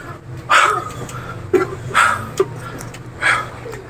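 A pesky dog barks four or five times in short, sharp yaps spaced irregularly, fairly close, over a low steady background hum.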